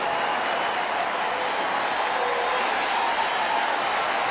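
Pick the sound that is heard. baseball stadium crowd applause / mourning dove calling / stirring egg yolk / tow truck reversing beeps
baseball stadium crowd applause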